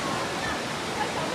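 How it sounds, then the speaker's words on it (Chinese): A waterfall inside a deep rocky gorge, the Yunlong ground fissure in Enshi Grand Canyon, gives a steady, even rushing roar of falling water, moderately distant and unbroken throughout. "那前面还有好几条瀑布呢啊，那个水量最大"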